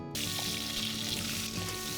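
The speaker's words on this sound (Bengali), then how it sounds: "শুকনো লঙ্কা দিয়ে কালো করে ভেজে দেবে তেজপাতা আর পাঁচ ফোড়ন" Dried red chillies, bay leaf and panch phoron frying in hot oil on low heat; a short, steady sizzle starts abruptly and holds over soft background music.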